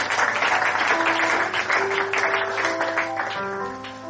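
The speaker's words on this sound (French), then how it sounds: "Est-ce qu'on peut acclamer pour la gloire?" A church congregation bursts into sustained applause and cheering, dense clapping from a large crowd with a few voices and sustained musical tones underneath, fading slightly toward the end.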